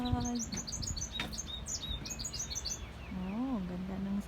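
Birds chirp and tweet beside a blooming crab apple tree in a yard, rapid high trills and short calls overlapping, fairly faint, with a few tonal whistles and some low background noise.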